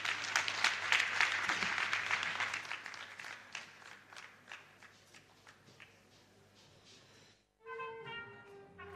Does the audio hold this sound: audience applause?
yes